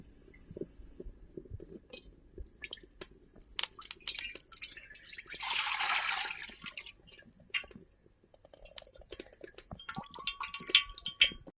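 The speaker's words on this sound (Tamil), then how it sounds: "சட்டி காஞ்சிச்சு எண்ணெய் ஊற்றிக்கலாம்" Cooking oil poured into a heated pan for chilli chicken, heard as a brief pouring hiss midway, surrounded by small drips, clinks and kitchen clatter.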